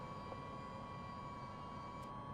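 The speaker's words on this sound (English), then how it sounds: "The generator is spinning up." In a flight simulator game, an aircraft engine's generator spins up during engine start, a steady, faint whining drone with a constant high tone over low rumble.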